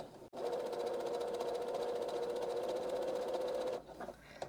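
A sewing machine runs a blanket stitch along the edge of a homespun fabric rag quilt, a steady, close, continuous hum that stops abruptly near the end, with a short pause and some light handling noise after.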